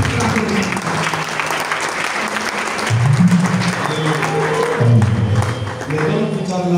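Church congregation applauding during a Sunday worship service, with sustained clapping layered under loud voices and music-like tones throughout.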